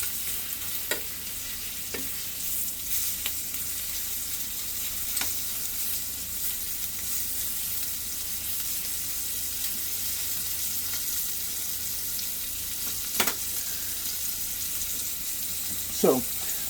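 Flipped chicken pieces frying in a pan in a restaurant kitchen give a steady, hissing sizzle, broken by a few sharp ticks and scrapes from a utensil.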